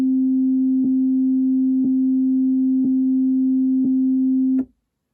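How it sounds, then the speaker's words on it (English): A steady sine tone from a Korg wavestate synthesizer holds one pitch, broken by a soft click about once every second, four clicks in all, before the tone cuts off abruptly. "Now, this is a basic sine wave. It repeats once every second. You'll hear a click every second"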